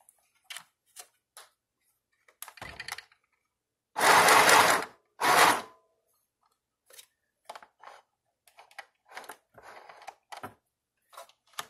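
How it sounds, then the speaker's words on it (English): A sewing machine stitching elastic together runs in two short, loud bursts, the first about half a second long and the second briefer, amid scattered light clicks and handling taps. "Just sewing this elastic together."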